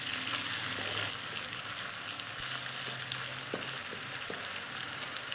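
Finely chopped tomatoes fry in ginger garlic paste for an egg masala curry, a steady close hiss and crackle with faint clinks of stirring and a slightly louder burst at the start.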